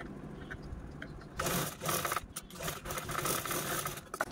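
A sewing machine stitches the folded edge of a shopping bag, starting with a few faint stitches and then running in louder, rapid bursts of whirring.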